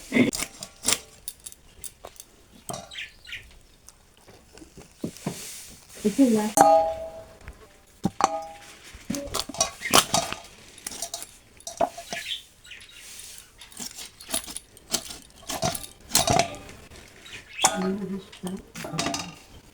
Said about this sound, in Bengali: এই যে তো এখন মাংসটা পিস পিস করে কেটে নেব।